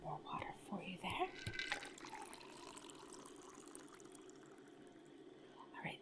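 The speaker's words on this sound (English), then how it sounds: "just pour some more water for you there" Water poured close-up into a glass during a soft-spoken ASMR taste test of chips, a quiet, continuous trickle with faint whispery sounds alongside.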